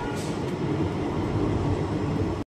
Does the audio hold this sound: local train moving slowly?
yes